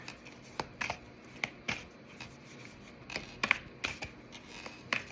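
Tarot cards being shuffled by hand, soft close riffling and slapping bursts in an irregular rhythm, fairly quiet with no talk.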